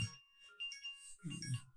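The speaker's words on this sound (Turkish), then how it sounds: "Eyvah bildirim." A short electronic notification chime from a device during a Go game against an AI, with two brief melodic tonal bursts separated by a gap, fairly quiet and alone.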